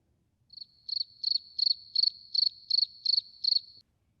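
Crickets chirping in a steady series of about nine high, pulsing trills, evenly spaced and fairly close, with nothing else in the background.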